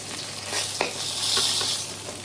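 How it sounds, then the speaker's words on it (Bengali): Fish frying in a pan at home, a steady broadband sizzle with a few soft clinks from utensils, fairly close and alone without talk. "আর দুটো মাছ আছে ভাজবো"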